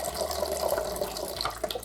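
Dark, sugary soda trickles and splashes through a Sawyer Squeeze water filter, a close, continuous liquid pour with small drips and bubbling near the end.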